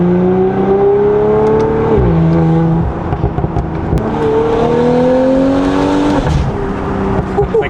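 An Audi S5 fitted with a Valvetronic Designs valved sport exhaust and downpipe revs loudly up close with the valves open, rising in pitch twice before dropping off, then climbing again in a third rev.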